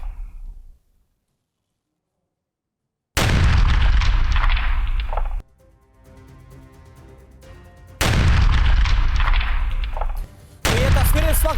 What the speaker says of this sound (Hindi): रूसी टैंक में जोरदार धमाका हुआ है।